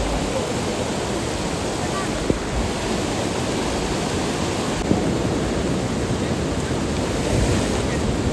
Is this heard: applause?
no